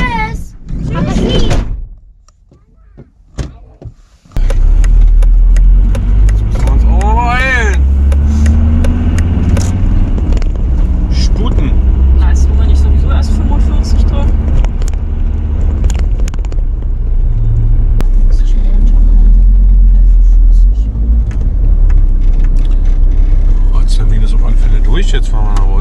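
A car drives along the road, its steady, loud engine and road rumble filling the cabin after a brief quiet opening, with people talking inside over the continuous drone.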